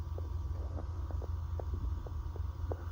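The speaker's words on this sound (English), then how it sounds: "I've got it running now, the air conditioner" A 5000 BTU Frigidaire air conditioner running inside a truck camper gives a steady low hum and drone, with faint rhythmic thumps over the top, and no voices.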